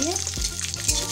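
Cashews and raisins fry on a low gas flame for Basanti pulao, a soft steady sizzle with a couple of scraping stirs, close and alone.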